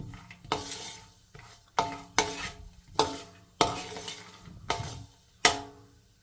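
Pistachios being dry-roasted in a pan, stirred with repeated scraping strokes, about eight crisp rhythmic clatters and scrapes close by, with a faint sizzle between them.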